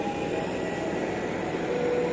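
Kahuripan passenger train of seven economy cars, a dining car and a power car standing at platform five of a station, giving a steady, even rumble and hum with a faint tonal whine, no talk.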